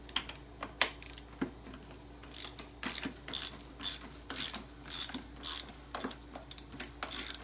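A ratchet clicks in repeated bursts while clamps are loosened on a 1985 Suzuki RM250 motorcycle fork, crisp close ratcheting strokes in an uneven rhythm.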